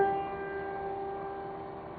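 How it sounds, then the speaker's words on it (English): An electric player piano's vacuum pump runs at playing volume, giving a faint, steady hum with thin tonal whines over a low rumble, continuous and unchanging. "That's the noise of the pump at this playing volume."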